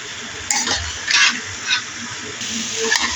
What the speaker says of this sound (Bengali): কষিয়ে নিচ্ছি এখন।